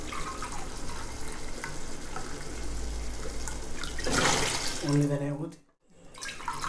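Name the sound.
pouring mutton cooking water into pot for biryani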